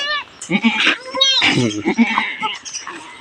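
A goat bleats repeatedly while giving birth on a farm, the loud, wavering cries close by and mixed with a person talking.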